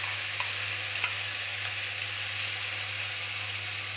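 A salt-free spice paste for paneer posto fries and is stirred in a pan. A steady soft sizzle runs throughout, with faint occasional scrapes of stirring and no voices.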